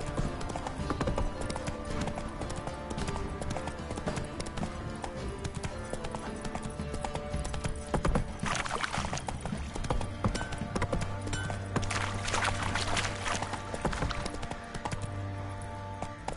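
Hooves of Roach, Geralt's horse in The Witcher 3, beat out a fast, continuous clip-clop rhythm across the ground, close and steady, with occasional faint game sounds layered beneath.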